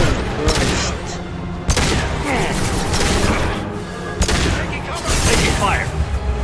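Sustained gunfire and heavy booms fill a firefight in Mass Effect 2 on Insanity difficulty, dense and loud throughout, with a player's voice talking over the shooting.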